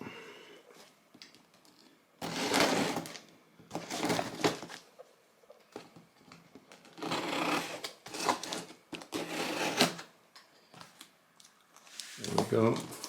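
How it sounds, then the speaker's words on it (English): Packing tape on a box is cut and torn open in several loud crinkling, crackling bursts separated by quieter pauses, close up and without talk. "So let's try and open this up. We got some taping to cut through."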